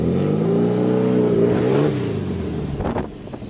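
Car engine revving and accelerating from inside the cabin, a loud rising engine tone that climbs, then eases off into a quieter steady run with a few clicks and bumps near the end.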